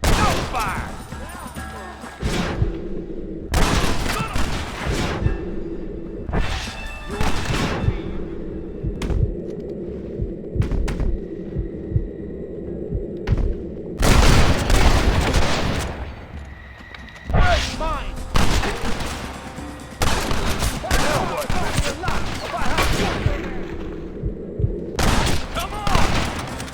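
Gunfire in the video game Red Dead Redemption, with rapid volleys of rifle and pistol shots and loud thumping blasts crackling almost continuously, while voices shout over the shooting.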